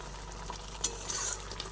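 Flat beans with a little water are tossed gently in a wok, making a quiet, short stirring rustle over a low simmering sizzle.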